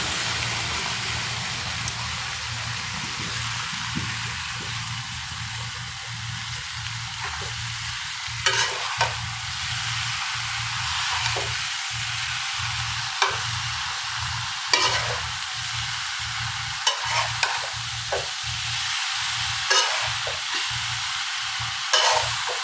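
Potatoes, shrimp and taro stolons sautéing in a pan, a steady close sizzle with a low hum beneath and repeated spatula scrapes and clacks at an uneven rhythm.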